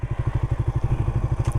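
A Suzuki Raider FI motorcycle engine while riding, with a loud, close, rapid pulsing exhaust beat that throbs evenly throughout, heard alone without speech.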